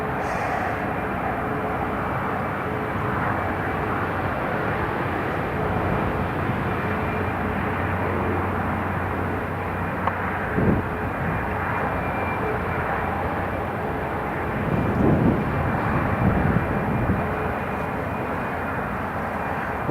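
Italian Air Force C-27J military transport aircraft landing at Newcastle International Airport, a steady broad engine roar held throughout at moderate distance, with a brief bump near the end as it touches down.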